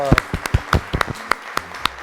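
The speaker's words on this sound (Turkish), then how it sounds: "Alkışlar geliyor" Sparse, distinct claps from a small group greet the winners of a children's quiz show, about a dozen separate hand claps spaced unevenly across two seconds, with a brief voice at the very start.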